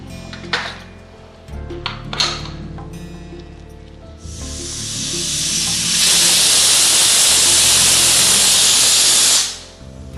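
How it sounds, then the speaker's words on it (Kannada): A pressure cooker of aloo batani gravy builds to a loud, sustained hiss of escaping steam that holds for several seconds before cutting off, preceded by quieter kitchen clatter. "ಈಗ 2 ವಿಷಲ್ ಬರೋ ತನಕ ನಾವು ಕೂಗಿಸ್ಕೋಬೇಕು"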